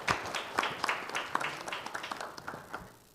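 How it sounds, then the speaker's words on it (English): Audience applause for the panelists at a Ward 5 councillor debate: a soft, dense patter of many hands clapping together, fairly distant and quiet, tapering slightly toward the end. "So let us have a big applause for our panelists."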